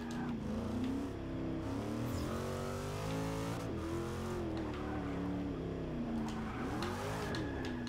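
A Corvette C7.R race car in Forza Motorsport 6 revs hard under heavy acceleration, its steady engine drone rising and falling in pitch through gear changes, loud and continuous for the whole stretch.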